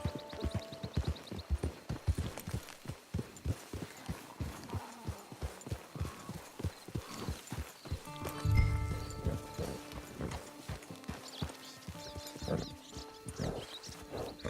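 Horse hooves clip-clop in a steady walking rhythm in Red Dead Online, with occasional snorts and a low thud partway through, moderately loud.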